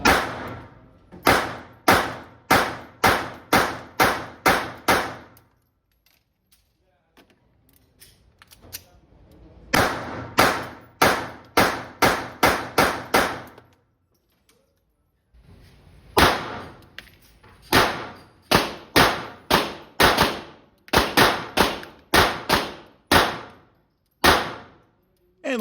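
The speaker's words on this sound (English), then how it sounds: "Now I'm going to go back to unsuppressed fire. We're going to fire 2 mags at once" Beretta Tomcat pistol fired unsuppressed, two magazines emptied in quick runs of sharp, loud shots. The shots come in rapid bursts of seven or eight, separated by short silent reload pauses.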